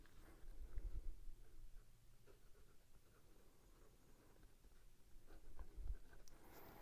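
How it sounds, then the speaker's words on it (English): A Pilot G2 0.38 gel pen scratches softly across Amazon Basics notebook paper in faint, close strokes, with occasional low bumps from handling and no speech. "writing on this paper, I don't know, it doesn't feel like anything special"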